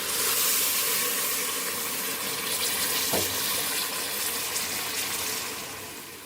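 Water pours into a pot of mutton karahi with fried meat, garlic-ginger paste and tomatoes, a steady broadband splashing rush lasting several seconds, close and fairly loud, fading slightly at the end, with no talking.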